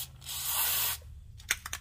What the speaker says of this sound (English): I shoot this white lithium grease